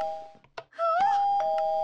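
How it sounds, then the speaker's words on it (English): A doorbell in a Minecraft bunker chimes with a sustained ringing tone following a few brief knocks or clicks, fairly close and clear with no talking over it. "It keeps ringing the doorbell!"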